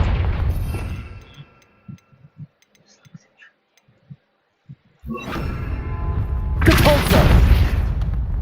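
A Confringo fire spell from the game Hogwarts Legacy bursts into a loud, rumbling explosion that swells and roars for several seconds, following a first blast and a stretch of scattered small game sounds.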